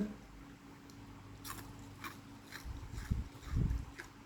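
Crunchy food is bitten and chewed close up, with a few faint crisp crunches and soft mastication sounds over quiet background, growing louder toward the end.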